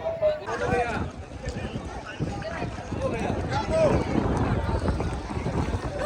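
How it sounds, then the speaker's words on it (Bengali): A small boat pulls away on a lake, its steady water and engine wash close and continuous, buffeted by wind on the microphone, with people talking over it throughout. "আমি আর রাজদীপ দুজনেই শুধুমাত্র বসেছি, আর আমাদের বোটটা ছেড়েও দিয়েছে।"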